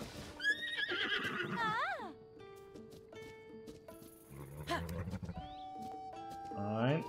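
A wild horse in the video game The Legend of Zelda: Tears of the Kingdom whinnies and snorts several times, loud and close, among game sounds and music, with a voice speaking.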